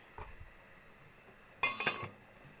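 A metal lid set onto a cooking pot of sinigang na lapu-lapu, a short clinking clatter that rings briefly before quiet, preceded by a faint soft tap.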